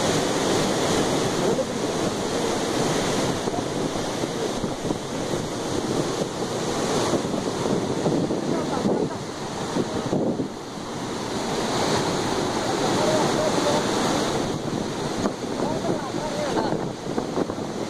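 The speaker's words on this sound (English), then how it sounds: "This is a great waterfall in Payanadu. The name is Kandapara. It's the biggest and evergreen waterfall." Kandapara waterfall in Payanadu, Kerala, India, a large evergreen fall, gives a steady, broad roar of rushing water with wind buffeting the microphone, loud and continuous throughout with no talk.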